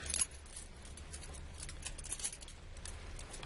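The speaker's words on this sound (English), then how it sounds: "I reached in my pocket and I was like, I pulled out my keys" A bunch of keys jangles as it comes out of a pocket, a quick metallic rattle with light clinks that carry on faintly. The sound is close and nobody speaks.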